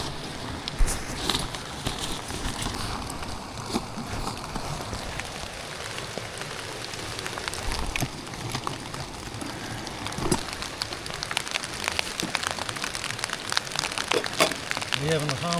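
Rain pattering steadily on surfaces during an evening hike along the Cahaba River riverwalk, a dense continuous hiss with scattered drops, close and fairly loud throughout.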